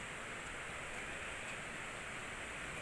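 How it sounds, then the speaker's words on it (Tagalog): Steady rushing water from a waterfall on a hillside trail, a broad continuous hiss with no pauses, heard alone and fairly distant. "Ayun, yung running water."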